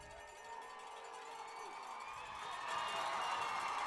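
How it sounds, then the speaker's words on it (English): Crowd noise from the stands at a high school football game between Harris County and Manchester, a distant murmur of cheering and shouting that builds louder toward the end, with faint voices mixed in. "The crowd's making noise."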